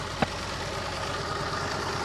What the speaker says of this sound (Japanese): 放置しててなんとかエンジンがかかったんですが、